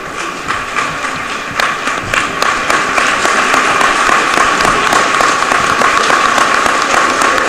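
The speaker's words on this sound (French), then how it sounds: "On va applaudir." An audience gathered for a meeting between Guillaume Soro, president of the national assembly, and the diaspora in the USA breaks into sustained applause. The clapping builds to a dense, even roar and holds near and loud.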